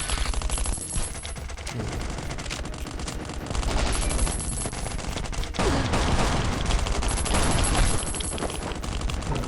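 Dense, loud automatic gunfire rattles almost without pause in Last Island of Survival, with overlapping shots, a brief lull and then renewed volleys.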